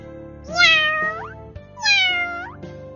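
A large cat gives two drawn-out, rising meows in close succession, clear and near with nothing else around.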